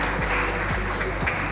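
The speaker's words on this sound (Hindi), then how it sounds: "प्लीज एक बार जोरदार तालियां हो जाए हिमा दलहोत्रा जी के लिए" Audience applause at an achievers award ceremony, a dense wash of clapping from a crowded hall, steady and moderately loud throughout, with low thumps beneath it.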